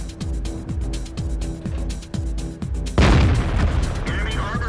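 Tank cannon shot in the World of Tanks video game: repeated engine or track thumps, then one sudden loud booming blast with a lingering rumble and debris hiss, close.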